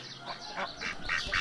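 Backyard ducks quack several times in quick succession, short raspy calls growing louder toward the end, close by over a quiet outdoor background.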